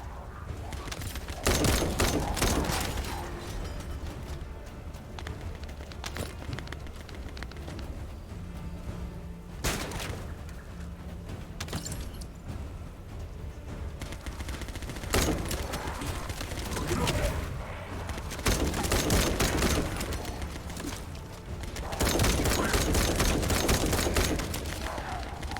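Explosive launcher rounds fire and detonate in a video game, bursts of booming blasts scattered through the stretch with brief gaps, mixed with other gunfire and a voice talking over the action.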